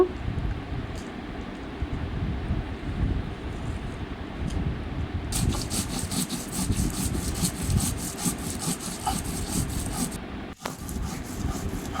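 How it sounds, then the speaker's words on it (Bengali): Dried chillies and coriander stems are ground with water into a paste, a steady rough rubbing and scraping that grows louder and more rhythmic partway through. "শুকনো লঙ্ক আর ধনে পাতা ডান্ডিগুলি নিয়েছি এগুলো জল দিয়ে এখন বেটে নিব"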